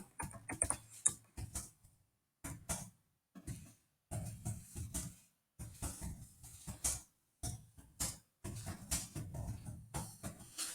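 Quick bursts of typing on a computer keyboard while writing code, close-up key clatter in short runs broken by brief pauses.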